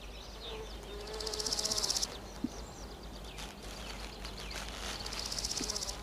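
Buzzing wasps make a steady insect drone that swells in two louder, close passes, with quieter humming between them and no talk.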